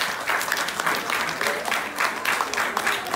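Steady applause from an audience at a school eloquence event at Collège Jules Romains, dense clapping sustained evenly throughout with no pauses, moderately distant and filling the room.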